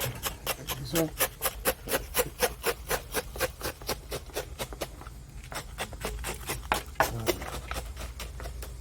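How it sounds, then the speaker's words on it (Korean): The back of a rubber mallet pushes and rubs soil in among the roots of a bonsai pine during repotting, making a steady run of close, rhythmic scraping strokes that thin out midway, with a voice briefly speaking over it. "이 고무망치 뒤로 해서 이 사이사이에 흙이 들어갈 수 있게끔 옆에서 이렇게 살짝 밀어주는 작업을 갖다가 할 거예요"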